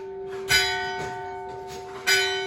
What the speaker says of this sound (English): Oh, the bells. Now that's Italy.